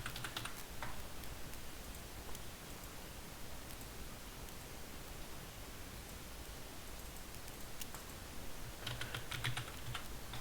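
Rapid tapping on a computer keyboard, a steady patter of small key clicks over a constant hiss, close but quiet.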